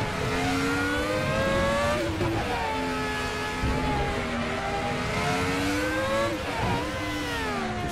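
A Formula X-17 race car in the RaceRoom VR racing game revs and accelerates, its loud whining engine note climbing through the gears with brief drops at each shift, continuous and close.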